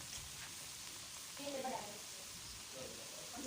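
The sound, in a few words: egg chips frying in hot oil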